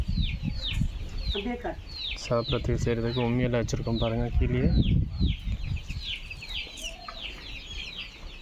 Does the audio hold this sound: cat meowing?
no